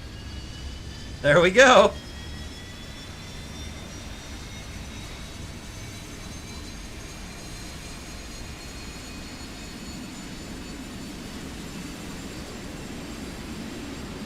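Aircraft engine in War Thunder, a low steady droning hum throughout, with someone briefly speaking early on.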